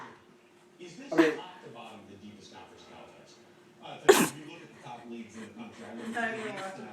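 A person sneezes twice in quick succession, sharp loud bursts about three seconds apart, with people talking and laughing quietly in between.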